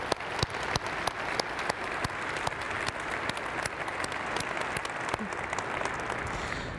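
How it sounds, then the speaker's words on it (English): Keynote audience at a large tech conference general session applauds sponsors, a steady wash of many hands clapping throughout with a few sharper close claps standing out. "Let's give them a great big round of applause."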